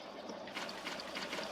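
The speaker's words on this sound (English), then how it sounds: "Fill it up with water" Water from a bucket poured into a Minecraft build, a steady splashing trickle that swells partway through and then runs on evenly.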